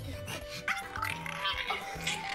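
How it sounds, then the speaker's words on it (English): Dogs yip, whimper and bark in short, fairly faint bursts with whiny pitched tones, with some background voices mixed in. "Truly beautiful noise, dogs."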